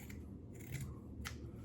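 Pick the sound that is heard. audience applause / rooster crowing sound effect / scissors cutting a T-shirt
scissors cutting a T-shirt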